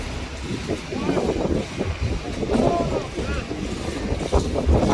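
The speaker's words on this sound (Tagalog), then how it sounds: "Yeah, it's windy." Steady blustery wind buffets the microphone at a construction site during a beam installation, with low rumbling gusts throughout and people talking faintly beneath it.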